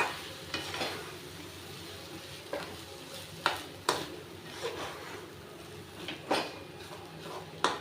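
Gulpavate, a Maharashtra sweet mixture, is stirred in a pan over low heat, a soft bubbling sizzle punctuated by repeated sharp scrapes and taps of the spoon against the pan.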